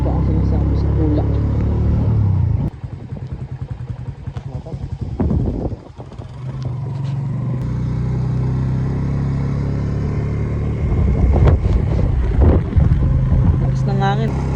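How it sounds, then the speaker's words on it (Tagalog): A strong wind gusts loudly into the microphone during a rainy ride, a heavy, buffeting rumble that runs throughout, dips briefly partway, then rises again. "Lakas ng hangin."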